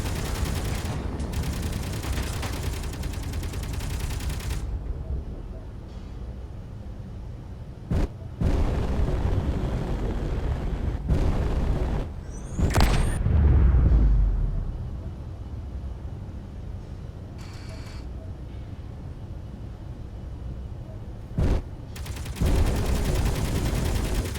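Weapons firing in the survival game Space Engineers, with scattered sharp bangs and bursts spread across a steady low rumble, a heavier boom standing out near the middle.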